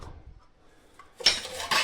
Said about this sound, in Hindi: ये टिफिन अभी इनके बैग में से निकाला है।